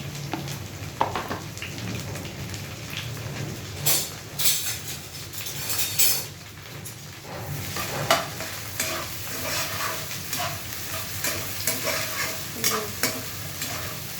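Tomato, green chili and onion frying together in a pan, a continuous sizzle with irregular scraping and clinking of a spoon stirring through the vegetables, close up and without speech.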